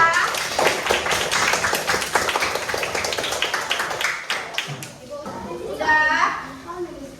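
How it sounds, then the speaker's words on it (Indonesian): Primary school classroom clapping for a student during a lesson on changes of state of matter, a burst of dense hand claps from a group of children for several seconds, fading into a brief pause and then children's voices. "Berikan tepuk tangan untuk teman kita."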